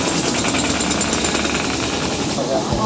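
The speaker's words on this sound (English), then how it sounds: "they're working on this bridge, jackhammering all the concrete out" Jackhammers break out concrete on a bridge under repair, a loud continuous rattling roar close by that fills the whole stretch without letup.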